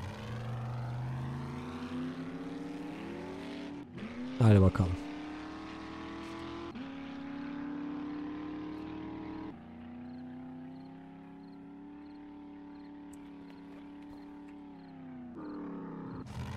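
A buggy engine in the 7 Days to Die video game, a continuous motor drone rising and falling in pitch as the vehicle accelerates and slows, with a loud clattering jolt early on and someone speaking briefly.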